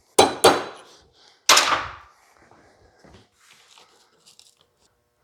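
Sharp metallic hammer taps bump the center of a wire frame buck clamped in vise jaws: two quick strikes, then a third, each ringing and fading, followed by faint rustling and handling noise.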